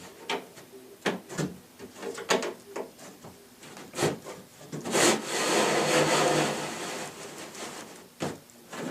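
Wooden cabinet lazy susan sliding and rubbing in its channels with scattered knocks and bumps, then a longer grinding slide midway through, close up with no talking.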